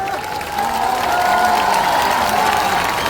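Crowd clapping at an outdoor political rally in Shivhar, a dense steady patter that swells after the first half second, with a faint tonal drone and possible voices mixed beneath.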